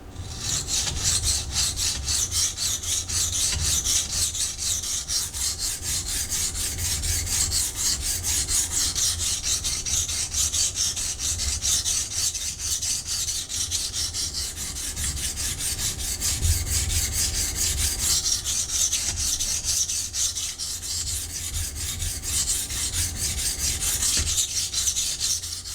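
A Ruike P801 folding knife with 14C28N steel being sharpened on a 220 grit Hano Kurumaku whetstone, steady rhythmic gritty scraping strokes continuing evenly for the whole stretch, close and moderately loud with no talk.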